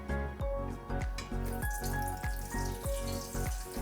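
A cheese-stuffed potato bonda fries in hot oil preheated to 350 degrees, giving a steady bubbling sizzle with soft rhythmic pulses recurring about every half second, close and moderately quiet.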